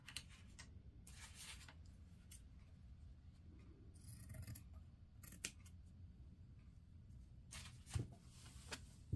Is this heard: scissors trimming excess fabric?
yes